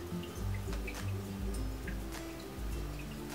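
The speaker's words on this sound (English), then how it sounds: "Then I start washing my face." Water splashing and dripping as a face is washed at a sink, close-up, with uneven wet splashes over a running-water background.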